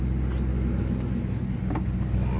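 Ford Mustang GT engine and exhaust idling, a deep steady low rumble with slight fluctuation, close and loud, no talking.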